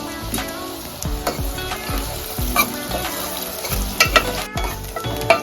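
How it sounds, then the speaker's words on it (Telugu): Paneer frying in oil in a kadai for palak paneer, with a steady close sizzle broken by repeated stirring and scraping knocks of a utensil against the pan. "వేరే కడాయిలో నేను ఆయిల్ వేసుకున్నాను. దాంట్లో పన్నీర్ కొంచెం ఫ్రై చేసుకుంటాను."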